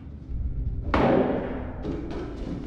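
A single gunshot booms in the horror video game Man of Medan, a sharp loud crack that rings out and decays over a couple of seconds, followed by faint rumbling.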